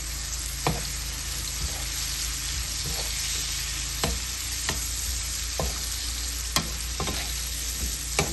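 Onion and capsicum frying in a pan for Bengali-style pasta, a constant close hiss of oil with sparse sharp clicks of a spatula against the pan.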